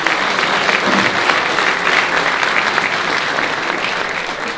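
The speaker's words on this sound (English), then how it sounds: "we should give a round of applause for" Steady, dense audience applause fills a conference hall during the 2019 Capital Link Hellenic Leadership Award event, loud and sustained throughout with no break and no one speaking over it.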